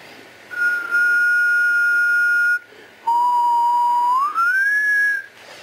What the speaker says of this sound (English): So if I whistle, I expect to see one nice clean peak.